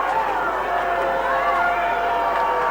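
Crowd booing outside Donald Trump's polling station in Manhattan, a loud, continuous mass of jeering voices with drawn-out wavering boos, heard from close by without a break.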